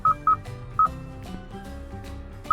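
Keypad dialing tones from a 2020 Kia's Bluetooth hands-free system as a call is placed, four short clear beeps in an uneven rhythm over a low background hum.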